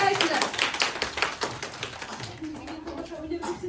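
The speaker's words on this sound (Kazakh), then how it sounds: "Шапалақ ұрып қояйық." Young children at a kindergarten New Year party clap together in a quick, busy patter of many small hands, close and lively, with an adult voice speaking over it.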